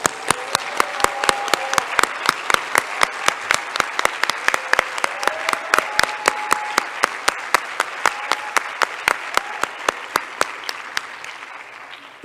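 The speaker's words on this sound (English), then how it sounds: "Come on, let's clap." An audience at a summit opening ceremony in Panama breaks into applause, a steady run of loud claps from a large crowd that continues for several seconds before fading slightly.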